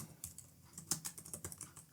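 Quiet, steady typing on a computer keyboard, a run of light rapid keystrokes close by, with no voice over it.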